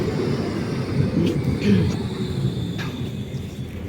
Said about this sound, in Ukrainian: Трамваї краківські трамваї.